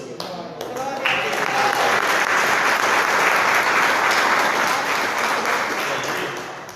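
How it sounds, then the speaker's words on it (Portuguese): A church congregation breaks into loud, sustained applause that swells and holds for several seconds, with a voice briefly heard at the start. "Salve de palmas para Jesus"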